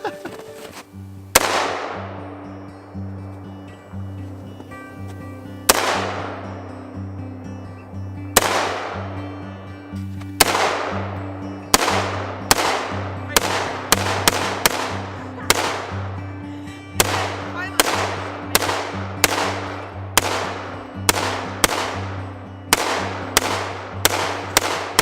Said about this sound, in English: I think someone's a little excited about shooting.